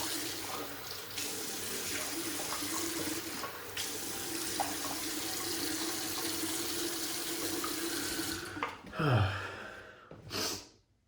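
Tap water runs steadily into a sink while a face is wetted before shaving, a constant close hiss that cuts off near the end, followed by splashes and a sharp breath.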